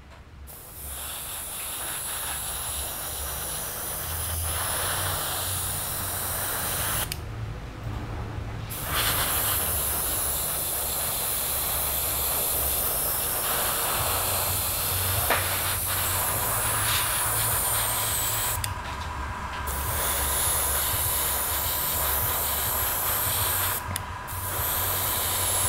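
Green Stuff World color shift paint is sprayed in a heavy wet coat, a continuous close airbrush hiss broken by a few short pauses, alone without speech.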